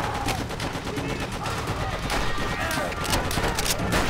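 Dense, continuous gunfire from the WWII shooter Call of Duty: World at War, a loud overlapping fusillade of rifle and machine-gun shots filling the whole stretch, with faint shouted voices buried in the battle noise.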